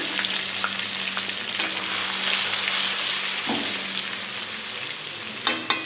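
Chopped ginger and garlic frying in hot oil with bay leaves, a steady close sizzle and hiss with a few light utensil taps and a sharper clatter near the end.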